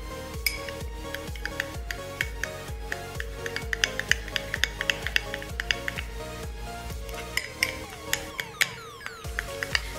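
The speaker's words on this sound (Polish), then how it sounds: "Ja to teraz szybko wymieszam." A slime mixture stirred quickly in a bowl, giving rapid wet clicks and squelchy taps that repeat densely under a steady background hum.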